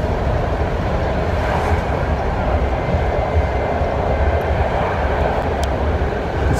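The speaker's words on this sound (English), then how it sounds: "this is basically the new train, but it's not that loud, but like a little bit quiet" New San Francisco BART Fleet of the Future eight-car train running toward downtown, a steady broadband rumble and rush heard from inside, fairly loud and even, with quiet talking mixed in.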